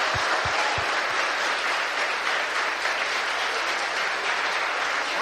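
A church congregation applauding together, a dense, steady wash of many hands clapping that holds evenly loud throughout, heard alone without talk.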